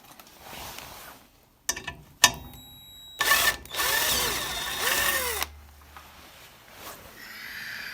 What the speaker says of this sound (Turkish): Burayı deldim.